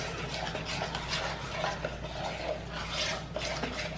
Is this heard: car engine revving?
no